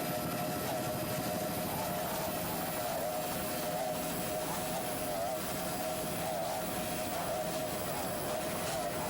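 Offshore powerboat racing off Islamorada, with a 33-foot and a 28-foot boat battling in C-Class: a loud, continuous drone of racing engines that holds steady throughout, with no speech.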